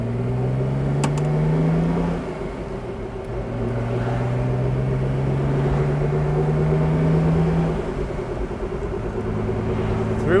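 A 1964 Mercedes 230SL Pagoda engine pulls away and accelerates through the gears, heard from inside the car as a steady mid-loud drone whose pitch climbs, drops at each shift and climbs again.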